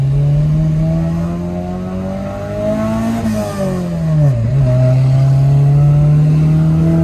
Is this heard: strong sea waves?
no